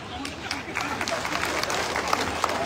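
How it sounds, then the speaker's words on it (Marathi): Loud, sustained applause from a large crowd at a political rally for farmers', farm labourers' and disabled people's rights, dense clapping filling the whole stretch with crowd noise behind it. "जोरदार टाळ्या।"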